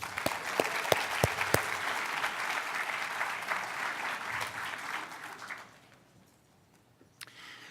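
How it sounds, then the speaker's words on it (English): An audience at an annual community gathering gives a round of applause for young performers, a few sharp nearby claps over a broad wash of clapping that fades out toward the end, with a last stray clap. "Let's give them a round of applause"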